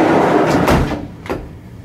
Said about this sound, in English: Door slides nice and easy.